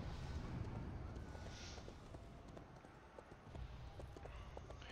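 Horse hooves clip-clop in the online game RIFT, a steady run of soft hoofbeats over a dense ambient game soundscape, with no one talking over them.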